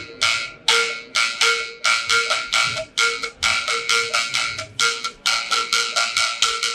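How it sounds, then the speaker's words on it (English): A traditional bamboo percussion instrument from Kalinga, Philippines, struck in quick, steady rhythmic bursts, each hit bright and ringing with a woody pitched tone, played close and alone. "It's traditional musical instruments from Kalinga, Philippines, the northern part of the Philippines."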